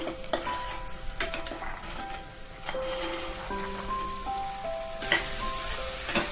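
Raw chana dal with turmeric and salt fried in a pan, a low steady sizzle with occasional stirring knocks, fairly quiet and close, with faint tonal background sounds and no talk.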